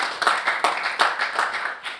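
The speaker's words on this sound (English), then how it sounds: "Let's give a round of applause." Brief clapping from a small seminar audience of clubs, a few hands striking in a loose, uneven patter, moderately close and with no talking over it.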